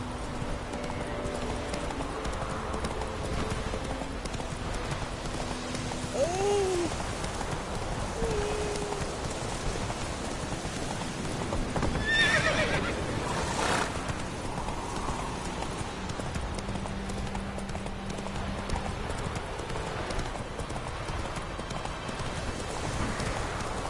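Hooves of Geralt's horse Roach in The Witcher 3 clop steadily at a gallop across a game landscape, a continuous mid-level rhythm running the whole time with a brief whinny and ambient wind beneath.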